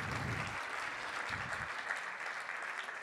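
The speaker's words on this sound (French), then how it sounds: "si vous pouviez applaudir ces 34 collaborateurs" An audience applauds at a gala dinner for fleet and mobility managers, a steady wash of clapping from many hands held at an even level for the whole stretch, with a few low murmurs early on.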